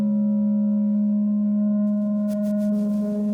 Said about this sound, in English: Now we're bringing the super saw